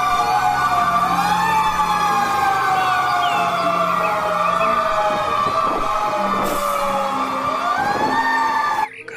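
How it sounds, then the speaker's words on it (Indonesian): A toy fire truck's electronic siren wails continuously at close range, a steady rising-and-falling electronic tone with a faint clatter underneath, cutting off abruptly at the end. "Wah, mobil pemadam kebakaran."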